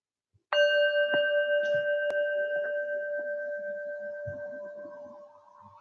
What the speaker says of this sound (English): Allow each bell ring to bring a new breath in and out of the body.